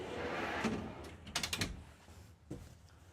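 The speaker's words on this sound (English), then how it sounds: "push in to release those. They're very deep drawers." Deep push-to-release pantry drawers in a 2023 Newmar Ventana 4369 motorhome, giving a quick cluster of close clicks and soft thumps as they are pressed and slide, then one more faint knock.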